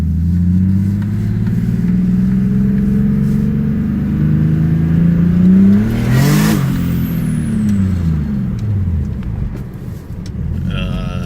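A turbocharged BMW E36 pulls hard in first gear on a wet street, the engine note climbing steadily and loudly before peaking and falling away as revs drop, followed by a settled idle-like hum.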